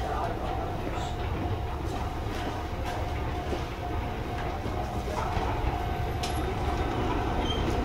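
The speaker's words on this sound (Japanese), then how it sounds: "上り三島行きが到着いたします。" An Izuhakone Railway electric train rolls into the station with a steady rumble and faint wheel squeal, while a Japanese announcement of the Mishima-bound train plays over the noise.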